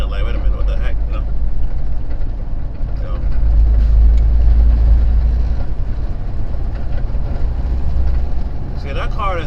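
At night in Houston, Texas, a car sweeps past a truck, a swelling rush over the deep steady rumble of the truck's engine, close and loud.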